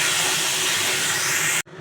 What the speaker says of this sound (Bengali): লতিটা ভাজা করে নিচ্ছি।